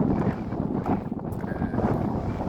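Heavy wind buffets the microphone in a continuous rough roar, loud and close, with no clear voices.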